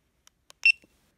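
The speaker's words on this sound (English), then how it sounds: "You'll hear 1 beep, and then on the LCD screen, if you look, you'll see a red dot." A GoPro Hero7 Black camera sounds a single short electronic beep as it starts recording, preceded by a couple of faint clicks from the button press, close and alone in a quiet room.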